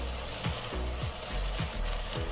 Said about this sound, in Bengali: এবারে এই সমস্ত মশলাগুলো ভালো করে কষিয়ে নেব।